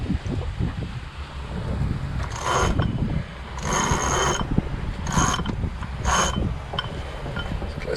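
Sheets on a sailboat being hauled in through pulleys at the stern, with several short bursts of rope running through blocks over a steady background of faint wind and water, no talking.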